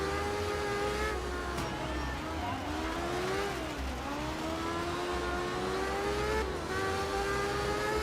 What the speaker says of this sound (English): God, that engine sounds fantastic